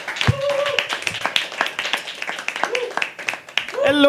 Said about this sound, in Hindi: तालियां बजाना शुरू करिए दोस्तों